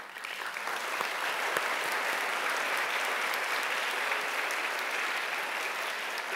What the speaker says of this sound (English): let's all stand up and give a round of applause to our parents and teachers